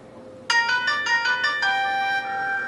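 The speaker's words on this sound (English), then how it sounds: "So it's going to ring me" Incoming-call ringtone from the Tango video chat app on a Windows Phone 7.5 handset, a bright chiming melody of quick repeated tones ending on a held note, heard alone over a faint room hum.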